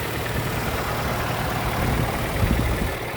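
A 2017 Daewoo Sens with a 1.3-litre petrol engine and manual gearbox idles under an open hood, giving a steady, even engine hum without any speech.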